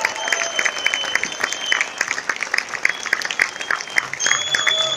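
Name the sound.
applause at a gala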